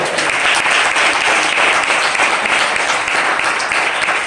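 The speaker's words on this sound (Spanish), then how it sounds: "Denle un aplauso al Señor." A church congregation applauds during a Spanish-language sermon, a dense, steady wash of loud clapping that fills the space evenly throughout.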